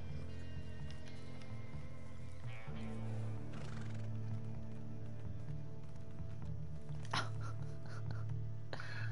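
A horse whinnies and clip-clops in Red Dead Online, hoof steps and snorts mixed with game ambience and background music, with no clear talk.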